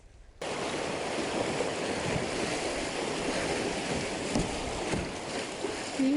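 Canoe paddle moving through river water, a steady close rush of splashing and churning water that starts abruptly and continues without pause, with no talk.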